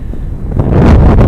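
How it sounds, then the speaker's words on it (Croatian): Strong wind on Durmitor mountain, Montenegro, buffets the microphone in a deep, rumbling roar that swells louder toward the end of the brief moment. "Vjetar se razbija."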